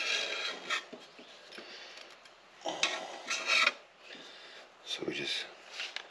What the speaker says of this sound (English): Got a super scraper here, but this is pretty clean. We just gotta get rid of this silicone off of here.